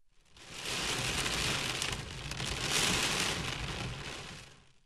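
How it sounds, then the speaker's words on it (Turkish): Steady rain falls in Erzurum, a dense even hiss of drops hitting surfaces that swells and eases slightly over a few seconds, close and continuous with no voices. "Uyarıların hemen ardından Erzurum'da yağmur etkili oldu."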